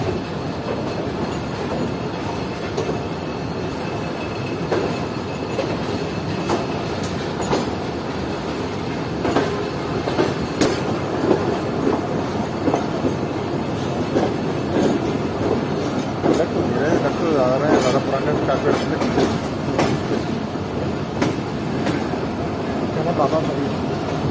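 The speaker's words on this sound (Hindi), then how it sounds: "तो तकरीबन 2 मिनट रुकने के बाद हमारी ट्रेन निकल रही है सम्मा सट्टा रेलवे स्टेशन से" A passenger train pulls out of Samma Satta railway station beside a departing freight train, with continuous wheel rumble, clickety-clack over rail joints and occasional squeals filling the whole stretch, and voices talking faintly beneath.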